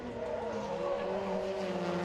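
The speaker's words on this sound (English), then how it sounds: "Roger Thomas chases on behind as they hit the brakes" Race car engines roaring with tires squealing as the cars brake and slide, a steady loud mechanical drone throughout.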